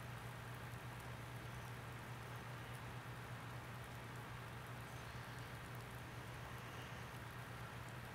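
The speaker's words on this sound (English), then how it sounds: "the rain is really starting to pelt down now" Steady rain pelting down in the Farming Simulator 19 video game, a constant even hiss with a low engine hum beneath, faint and unbroken throughout.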